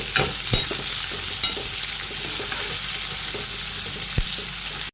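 Onions with curry leaves and a sprinkle of salt fry steadily in a pan, a continuous close sizzle broken by a few sharp stirring clinks.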